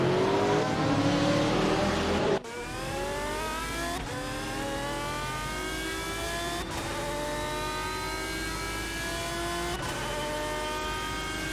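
Racing cars in a GTR racing simulator game roar at high revs, engine notes climbing through repeated gear shifts with brief breaks between, loud and continuous throughout.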